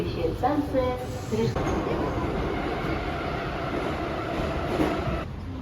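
A Moscow metro train pulls into a station with a loud, steady rumble and rail clatter that fills the whole stretch, while people talk nearby.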